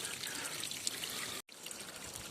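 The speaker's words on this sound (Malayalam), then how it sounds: "ഈ പാറയുടെ മുകളിൽ നിന്നൊക്കെ നല്ല ശുദ്ധജലം ഒഴുകി വരുന്നുണ്ട്" Clean water streams down over rocks near Vaithalkund waterfall in Kannur, Kerala, making a steady, close broadband rush that drops out for a moment before resuming.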